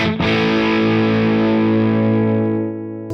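Electric guitar played through the overdrive side of a Beetronics effects pedal: one sustained distorted chord struck hard and left ringing, thick and saturated, slowly fading over a few seconds.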